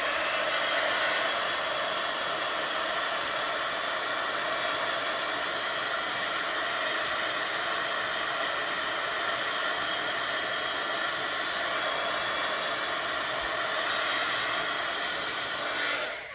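A hair dryer blows steadily on a journal card to dry the ink, giving a loud, constant airy whoosh close by that runs without a break and fades slightly at the end, with no talking.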